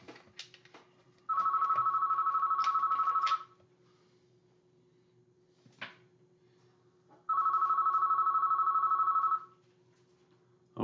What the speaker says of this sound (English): it's the fax machine making noise.